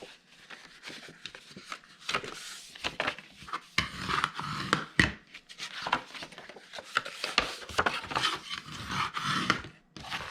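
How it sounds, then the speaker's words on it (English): Folded paper scores on a handmade mini paper book bag being burnished, giving repeated close, dry rubbing and scraping strokes in irregular bursts with no talking. "we are going to fold and burnish all of our scores"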